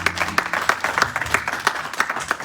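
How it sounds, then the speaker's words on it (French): Church congregation at a Sunday service clapping together, a lively, slightly uneven rhythmic applause, moderately close and steady, with faint voices mixed in. "Nous pouvons acclamer."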